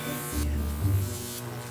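A Jacob's ladder powered by a 15,000-volt neon transformer arcs with a harsh, crackling electric buzz, continuous and steady throughout, with a low hum underneath.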